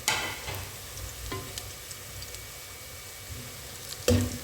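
Onions and whole spices, including whole dried chillies, frying softly in a pan for mixed vegetable sabzi, a faint low sizzle with occasional spoon scrapes and a sharp clatter near the end.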